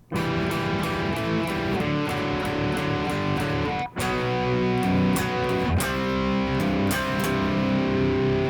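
A heavily distorted electric guitar chugs through a repeating riff, loud and steady, with a brief gap near the middle before it resumes.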